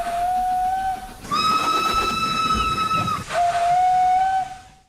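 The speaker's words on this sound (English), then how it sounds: "Garry is equipped with a medium-sized brass whistle." Garry, an 800.5-horsepower steam locomotive in Wales, sounds his medium-sized brass whistle three times in a row: a lower tone, then a longer and higher blast, then the lower tone again, each loud and close over a steady hiss of steam.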